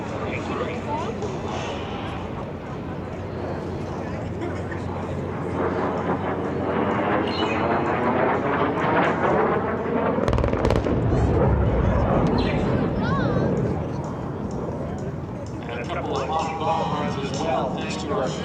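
A Lockheed T-33 Shooting Star jet performing at an air show produces a loud, continuous broadband jet roar that swells and surges over about eighteen seconds, with an announcer's voice running underneath.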